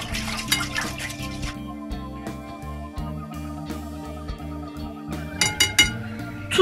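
A spoon clinks and scrapes against a glass container while salt is stirred into pickle brine for red cabbage and celery stalk pickles, giving steady light taps and stirring with a brief run of louder clinks near the end.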